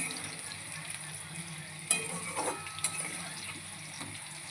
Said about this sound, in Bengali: এখন আমি আলু ভাজছি